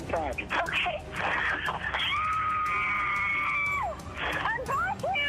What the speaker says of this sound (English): I need you to scream just as loud as you can scream